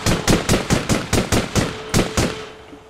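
A weapon in the online shooter APB Reloaded fires a steady string of about a dozen evenly spaced, loud shots, each sharp crack ringing briefly before the next, with a faint tone lingering under the last few.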